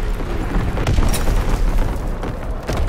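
Artillery strike explosions land in Call of Duty: WWII hardcore team deathmatch, a dense, continuous barrage of loud low booms and rumbling blasts overlapping with no pauses.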